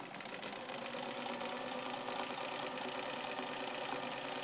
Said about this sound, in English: you'll put that into the sewing machine, and you'll stitch